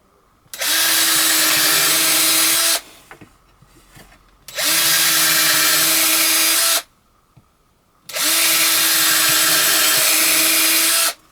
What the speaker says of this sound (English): the drill bit goes down into the next piece of wood